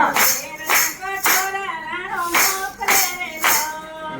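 Rhythmic hand clapping from a group keeps time with a devotional Gujarati bhajan, sharp claps recurring about every half second beneath singing voices.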